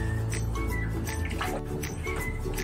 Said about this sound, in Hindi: तो यहाँ पे मैं दे रही हूँ गरम पानी।